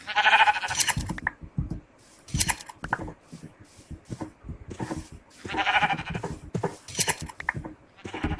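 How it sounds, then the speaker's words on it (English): Minecraft sheep bleat repeatedly in short, close, loud bursts, with rustling game sounds filling the gaps and nobody speaking. "All the naked sheep hanging around now."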